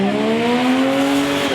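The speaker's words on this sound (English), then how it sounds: "shouting for burnouts" A car does a burnout at the H2Oi street car meet, tires squealing loudly with a rising, steady screech over the engine roar in one continuous burst.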